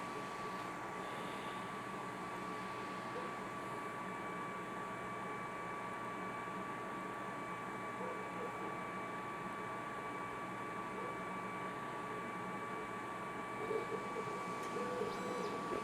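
A Monport 40-watt CO2 laser engraver burns a square at a steady, even level, with a constant machine hum, a fan-like whir and a thin high tone. Faint clicks rise briefly near the end.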